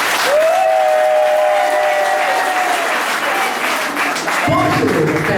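Steady applause fills a civil wedding ceremony as the bride's father is called forward, sustained clapping throughout with a faint held tone above it and a louder burst of clapping and voices near the end.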